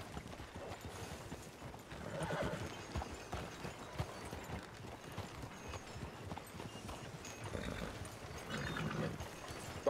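Horse hooves clip-clop steadily in the Red Dead Redemption II game world, a continuous rhythmic trot at moderate distance, with faint game ambience and occasional voices underneath.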